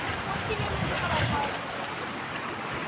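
Big sea waves churn and wash in a continuous broadband roar with wind buffeting the microphone, heard from a boat on the open sea during fishing.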